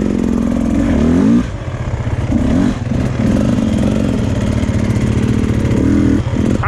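A 2024 Beta 300 RR dirt bike engine works hard while climbing rough terrain, a loud, close, steady two-stroke drone with surging throttle blips and brief dips in revs.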